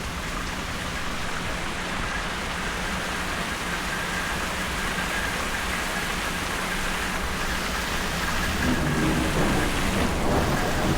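A steady, dense June thunderstorm downpour drums over the whole stretch, with low thunder rumbling beneath it; the rain stays loud and even throughout, and no one speaks.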